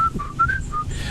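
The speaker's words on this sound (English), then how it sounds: "I think that bird just whistled back at me" A bird whistles back in a short exchange of clear, tonal whistles, several brief notes in a loose call-and-response rhythm over quiet outdoor background.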